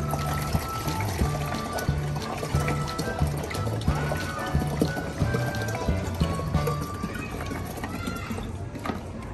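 A liter of water is poured steadily for a homemade banana peel fertilizer, a continuous close splashing stream lasting the whole stretch with faint voices underneath.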